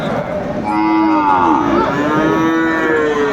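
A Sahiwal bull calf moos loudly and close by, one long drawn-out bellow that wavers in pitch over a steady background hum.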